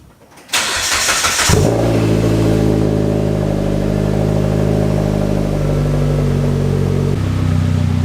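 A turbocharged 2015 Mitsubishi Lancer GT cranks briefly, fires up loudly, and settles into a steady, close, rumbling idle with a slight shift in pitch near the end.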